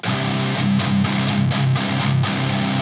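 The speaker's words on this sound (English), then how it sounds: "this is kind of a very standard 90s, slightly muddy metal tone" A heavily distorted, slightly muddy 1990s-style metal guitar riff with thick chugging low end, played steadily and loud with no voices.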